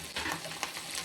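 Tomatoes go into hot oil for a Tamil dry fish curry, giving a brief, faint, soft sizzle with light crackles.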